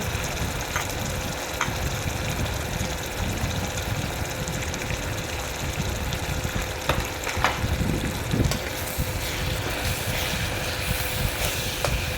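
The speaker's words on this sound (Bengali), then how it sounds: "মশলাটা খুব ভালো করে কষিয়ে নেব" Turmeric, chili powder and salt frying in hot oil in a pot for Bengali chana dal cooked with meat, a steady close sizzle with a low rumbling bubbling underneath, continuous and even throughout.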